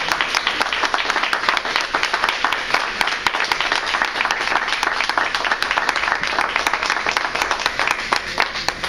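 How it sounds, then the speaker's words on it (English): A crowd applauds a youth leadership team at a Toastmasters graduation ceremony, with dense, steady clapping sustained loudly throughout and no voices heard over it. "Let's give them a nice round of applause."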